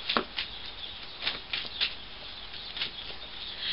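A deck of Yu-Gi-Oh! trading cards being shuffled by hand, heard as a string of quick, crisp riffling bursts and soft slaps at uneven intervals, close and fairly quiet with no talking.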